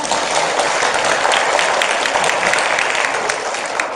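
An audience at a Christian school vision camp lecture applauds in a dense, steady wash of clapping that lasts the whole time, loud and close, with no talk over it.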